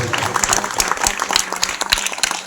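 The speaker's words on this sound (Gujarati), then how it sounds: "આપણે રમેશભાઈ અને હંસાબેનને જોરદાર તાળીઓથી વધાવી" A crowd gives dense, vigorous applause for Rameshbhai and Hansaben at a Seva Setu public event. Many hands clap loudly and continuously throughout, with no speech over it.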